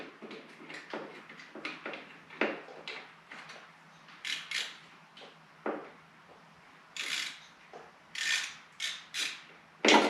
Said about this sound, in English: At this point, we'll just use the socket itself to loosen these.